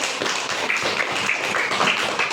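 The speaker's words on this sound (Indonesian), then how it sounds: "Tepuk tangan." Classroom pupils clap for a student with a burst of close, uneven hand clapping and scattered taps, lasting a couple of seconds.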